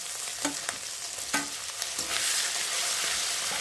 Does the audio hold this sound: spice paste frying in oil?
yes